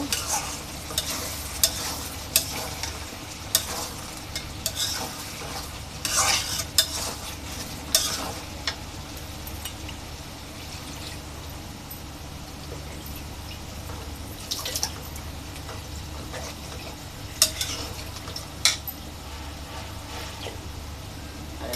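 Rhita fish curry simmers in a pan, sizzling steadily with frequent scraping and stirring strokes and wet spattering over a continuous low bubbling, close and moderately loud throughout.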